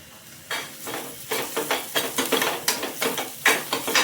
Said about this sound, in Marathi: आता आपण याच्यात लसूण घालूया। लसूण आपण बारीक ठेचून घेतलेला आहे।